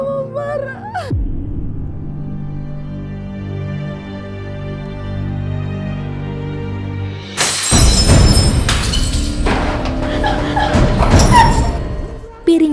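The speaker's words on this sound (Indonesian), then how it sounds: "Piring dan gelas pecah berantakan di lantai rumah." Plates and glasses shatter loudly on a house floor, a sudden crash after a sustained tonal drone, followed by several seconds of clattering and breaking debris.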